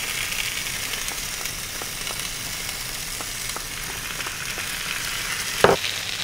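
Potatoes and minced garlic fry in a pan with a steady, even sizzle, a few soft clicks of stirring scattered through and one brief louder scrape near the end.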